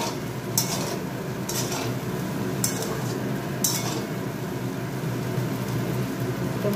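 Potato slices frying in a pan over high gas, with a steady close sizzle and occasional clinks of a utensil stirring against the pan.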